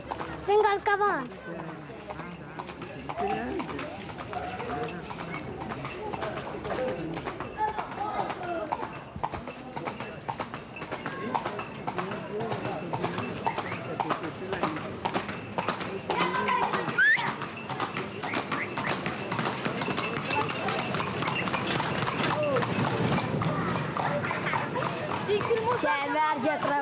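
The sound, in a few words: horse hooves clip-clopping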